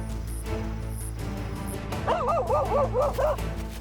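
Several African wild dogs give short, wavering yips and whines in quick succession, fairly close, over a low background rumble.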